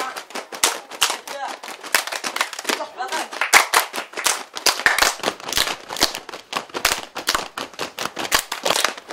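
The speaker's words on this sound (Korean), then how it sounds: "악기 대신 리듬에 맞춰 손뼉을 치고 허벅지와 가슴을 때리며 역동적인 동작을 취하는 것이 특징입니다" Saman dancers, a row of kneeling men in Sumatra, Indonesia, clap their hands and slap their thighs and chests in fast, tight rhythmic bursts; the sharp percussive hits come dense and close, joined by chanting voices.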